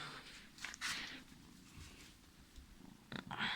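A young kitten purrs softly and close, a low steady rumble broken by a few brief rustles and soft shuffling movements, with no talk over it.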